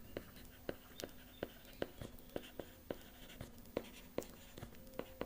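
Marker or chalk writing on a board during a physics lesson, a series of regular, crisp strokes and taps about every half second, close and fairly quiet, with no speech over them.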